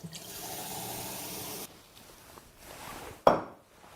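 Mineral water poured into a container, a steady close liquid stream for over a second and a half, then quieter trickles and a short sharp clink near the end.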